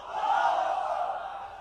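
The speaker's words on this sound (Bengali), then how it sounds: "তাকবীর পড়ুন, লিল্লাহি তাকবীর।" A crowd at an Islamic sermon gathering shouts the takbir in unison, a loud, sustained collective chant that swells and holds for under two seconds.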